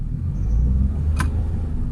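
Nissan Micra with a CVT gearbox pulling away, a low, steady engine drone and rumble heard from inside the car, with one brief click partway through and no talk.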